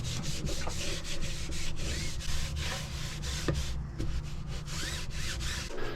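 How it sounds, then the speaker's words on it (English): Paste wax is rubbed by hand onto the underside of a wooden crosscut sled for a Dewalt 7485 table saw, a continuous close scrubbing rasp with rhythmic strokes and no talking. "This is just some paste wax I'm putting on the bottom of it to make it slide across the table easier."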